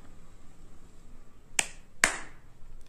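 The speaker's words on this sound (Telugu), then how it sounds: "సో నేను స్నాప్ చేసి కూడా చూపిస్తున్నాను చిటికా" Two crisp finger snaps, close and distinct about half a second apart, are made to trigger a homemade clap switch circuit in a quiet room.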